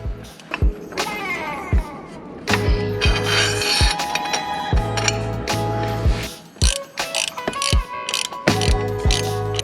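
A ratchet wrench tightens the exhaust flange nuts against the cylinder head of a 2023 Yamaha R3 during an exhaust install, giving close, repeated rapid clicking bursts broken by short pauses and metallic knocks.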